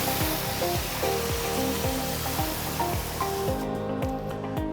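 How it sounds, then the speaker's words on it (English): Heavy-duty hose gun blasting water into a commercial kitchen waste collector, a loud continuous hissing spray that holds steady throughout before thinning slightly near the end. "Give the gusher heads a good spray down."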